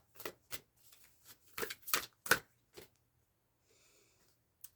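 Tarot cards being shuffled by hand: several close, sharp riffling bursts with short pauses between them, followed by quiet, with no talking.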